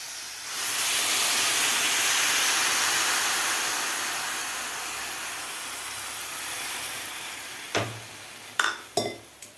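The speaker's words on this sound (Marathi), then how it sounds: "तर 2 वाटी पाणी घालायचं आपल्याला" Water is poured into a pot of rice while making coconut rice (narali bhat). It makes a steady, close hissing gush for several seconds and is followed by a few sharp metallic clinks of the pot.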